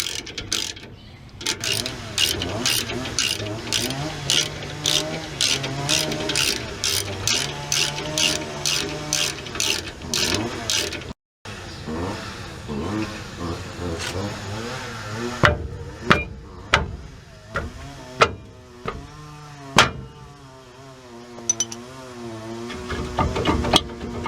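Mechanical ratcheting and metallic clicking while a stuck brake rotor on a vehicle is worked loose, a fast regular burst of clicks, a brief pause, then scattered louder knocks and clunks as it breaks free, close by with no talk.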